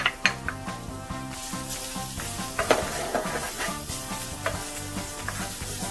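Minced garlic sizzles in garlic butter in a skillet, a soft continuous frying hiss under regular clinks of a utensil stirring against the pan.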